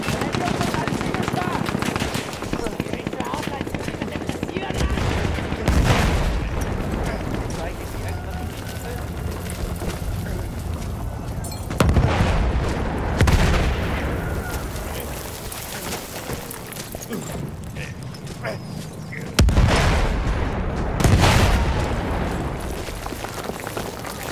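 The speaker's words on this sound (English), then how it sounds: "MGs are trained on them. They shoot anything." Battlefield 1 World War I combat rings out with sustained machine gun fire and heavy booming explosions, dense and loud throughout, with louder bursts of blasts rising at intervals as voices shout beneath the gunfire.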